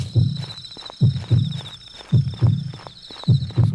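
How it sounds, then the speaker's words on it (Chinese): Heartbeat from the horror game Yomawari: Midnight Shadows thumps in paired low beats, about three doublets in a steady rhythm, over a thin high sustained tone. "怎么会有心跳声？"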